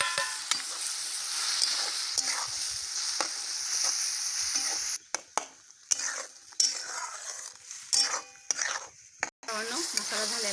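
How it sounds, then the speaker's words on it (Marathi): Tomatoes, chilli powder and spices frying in oil for a potato curry are stirred, a steady close sizzle broken by irregular scraping strokes of a spoon against the pan, with no talk. "आता सगळं हलवून घेतलेलं आहे तेलात"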